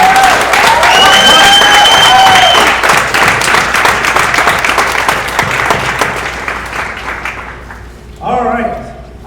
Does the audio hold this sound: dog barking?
no